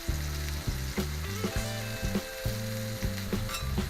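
Tomatoes frying on a hot steel plancha during a full English breakfast cook, a steady close sizzle with repeated soft scraping and tapping strokes throughout.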